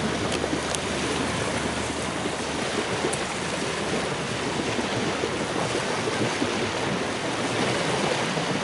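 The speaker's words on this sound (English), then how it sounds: "I'm at the beach, and this is the crazy thing the waves do." Ocean waves break and wash steadily onto a beach, a loud continuous surf roar with light wind across the microphone and no talking.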